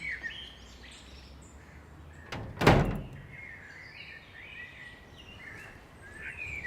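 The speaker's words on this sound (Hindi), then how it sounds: "आ जाओ रफीकन, खुला दरवाजा।" An indoor door opens for a visitor with one loud thunk of wood and latch, while birds chirp faintly outside before and after.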